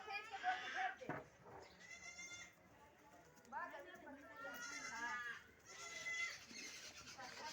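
Goats on a farm eating fodder bleat several times, in close, uneven cries, while a person talks nearby.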